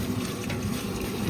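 Water pours steadily into a cooking pot for pulao in a home kitchen, a continuous splashing gush that holds at an even level close by, with no one speaking.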